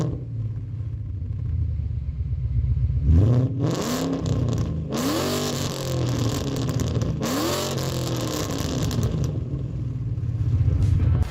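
Ford Mustang GT fitted with an MBRP catback exhaust revs up several times from a deep idle rumble, each blip rising and falling loudly and close, with no talk.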